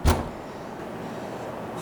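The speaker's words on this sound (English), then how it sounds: "There's a knocking indeed." A single heavy knock thuds at the start as an offstage sound effect in a school stage production of Macbeth, then fades into a quiet room hum.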